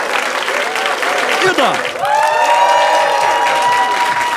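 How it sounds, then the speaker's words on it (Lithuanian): Audience applause greets improvisers at an improv jam in Vilnius: a dense, steady clapping that carries all the way through, with a short voice heard at one point. "Pasitinkam. Improvizatoriaus su audringais plojimais."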